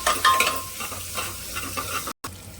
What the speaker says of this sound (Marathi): हा कांदा आहे ना आपल्याला अगदी लालसर करायचा नाही आहे